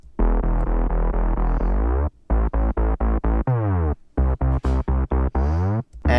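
An electronic drop synth bass line plays loud and alone, opening on a long held note that bends downward, then switching to choppy, rhythmic staccato stabs with sliding pitch glides between phrases.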